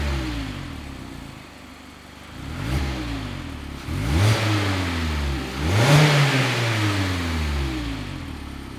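Stock exhaust of a 2016+ Mazda MX-5 Miata with the 2.0L engine: a mild, restrained note climbing through several rising revs with gear-change dips, at close to moderate distance and without talk.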